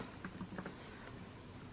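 Faint keystrokes on a worn computer keyboard, a short cluster of light taps followed by a quieter pause, with no talking.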